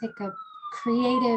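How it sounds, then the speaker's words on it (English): A siren wails in the distance as a long, gradually falling tone under close, clear speech from someone talking throughout. "Sorry for the siren going by."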